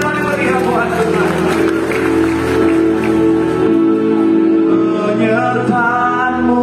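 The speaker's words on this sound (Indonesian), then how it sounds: "Tepuk tangan saudara-saudara yang paling meriah buat Tuhan." A church congregation claps and cheers in worship, a dense wash of applause mixed with crowd voices and music throughout, with a voice speaking over it.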